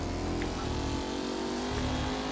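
A car in the Mafia 3 video game drives steadily, its low engine drone continuous and close throughout, with slight shifts in pitch and no talking.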